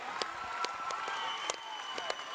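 A crowd cheers and claps at a women's fight, a steady roar of voices broken by sharp claps and shouts, moderately loud and somewhat distant.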